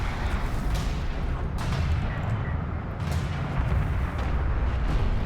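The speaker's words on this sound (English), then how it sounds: "Mortars being used there" Mortars in a strategy game match land as a steady rumbling barrage of dull booms and thuds over constant battle noise, loud and dense throughout.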